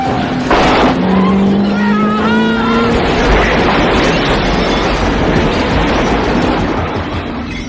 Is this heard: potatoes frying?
no